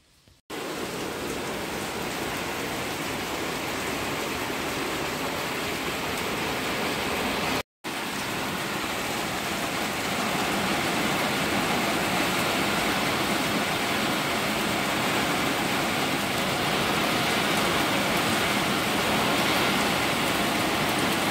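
Heavy rain from a passing storm pours steadily in a dense, unbroken hiss over a small Hungarian village, with one brief cut near the start, loud and enveloping.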